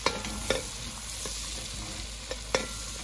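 Curry spices frying in a pan give off a continuous close hiss of sizzling, broken by three or four brief scraping stirs, with no one talking.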